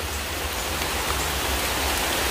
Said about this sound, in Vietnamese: Hiện tại thì mưa rất là lớn luôn của chú anh chị.